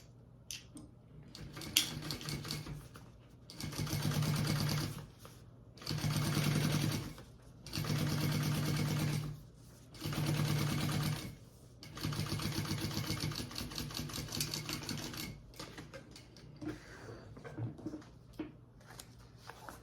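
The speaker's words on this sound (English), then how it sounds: "we're going to top stitch on the lining" A sewing machine top stitches a lining band, running in four distinct steady bursts with short pauses between, close and fairly loud, followed by softer handling and fabric rustle.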